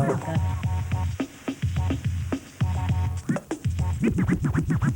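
Turntable scratching closes out a DJ routine, with quick rhythmic back-and-forth record cuts sweeping in pitch and speeding into a dense flurry of rapid scratches near the end.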